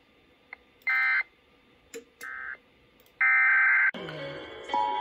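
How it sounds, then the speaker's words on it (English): Emergency Alert System test tones from a coordinated Maryland Emergency Management Agency test come as a series of steady electronic beeps of varying length. They are followed by a harsher, louder multi-tone alert burst. "This is the Maryland Emergency Management Agency with the coordinated test of the emergency alert system."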